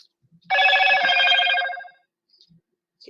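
A mobile phone plays a text message alert, a bright warbling electronic ringtone burst lasting about a second and a half, clear and fairly close in a quiet room.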